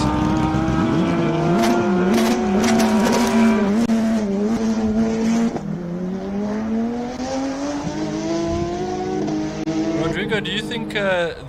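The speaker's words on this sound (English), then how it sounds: "Rodrigo, do you think these Porsches that will struggle off the line over the course of the weekend" A Porsche race car on a hill climb run, its engine note rising and dropping through gear changes, loud and close with brief tyre squeal, while a commentator talks over it.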